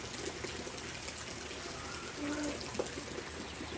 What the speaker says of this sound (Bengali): বৃষ্টি চলতেছে। এখন এইরকম বৃষ্টি